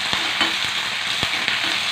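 Curry leaves and spices sizzle hard in hot tempering oil for a raw brinjal tamarind stew, a dense, continuous crackle close up, broken by a few soft knocks of stirring.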